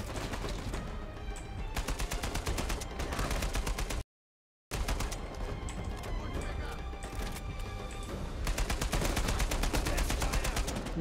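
Rapid machine gun fire in the game Uncharted 4 rattles in dense, loud bursts, broken by a brief silent gap and continuing on.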